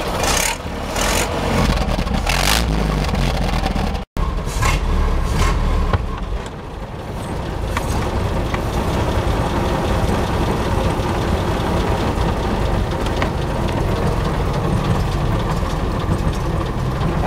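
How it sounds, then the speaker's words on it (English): A 1913 Pilot vintage car engine runs loudly and steadily with an open cutout, giving a rough, throaty rumble with rapid firing pulses throughout. "we can open the cutout so we can hear the engine a little better"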